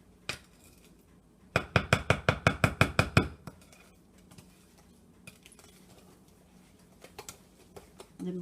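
Spoon clinking against a bowl while mixing oatmeal cinnamon cookie dough after adding vanilla extract, a quick run of about a dozen evenly spaced taps, then scattered softer scrapes and knocks.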